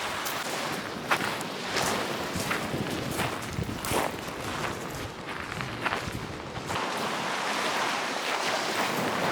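Sea surf at high tide washes onto a shell beach, a broad hissing wash with repeated soft breaking surges under steady onshore wind, heard from close by with no talk.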